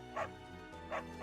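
A dog in Fire Emblem: Three Houses gives two short, bright yips or barks about a second apart over a soft background music bed.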